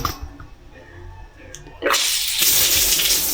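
Water gushes on from a tap or shower in a campsite shower room at Camp Ines in Tanay, Rizal, a steady hiss rising suddenly after a quiet moment and continuing loud and close.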